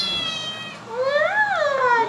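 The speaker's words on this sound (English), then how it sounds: "This is my baby kitten." A kitten gives a couple of rising and falling meows, close and fairly loud, after a brief softer cry at the start.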